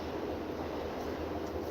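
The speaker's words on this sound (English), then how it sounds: "It's a train going by." Passing train heard as a steady, low rumbling roar with a broad hiss above it, continuous and moderately distant for the whole short stretch, with no talking.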